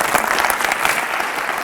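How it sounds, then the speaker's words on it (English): Steady applause from a crowd at a leadership speech, dense clapping throughout with no pauses. "I want you guys to give the biggest round of applause to Hayden for bringing this to us."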